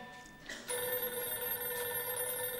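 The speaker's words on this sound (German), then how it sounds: "Telefon!" A telephone rings at a rural Bavarian inn, a steady electronic trill that starts abruptly and sounds loud and close, with no talking over it.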